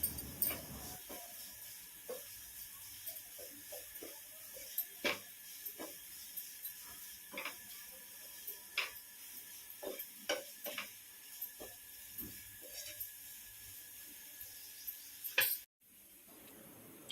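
A spoon stirs fried Maggi noodles with Maggi masala in a pan, giving soft, irregular scraping and clinking strokes over a faint sizzle, close and fairly quiet, ending abruptly.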